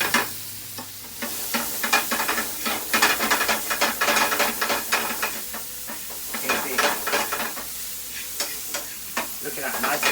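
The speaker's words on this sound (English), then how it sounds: "So now you can give a good shake to the pan." Onions sizzle and fry in a frying pan that has taken the juices from a British sirloin steak, a loud steady crackling hiss with scraping and stirring rattles as the pan is shaken, close up with no talking.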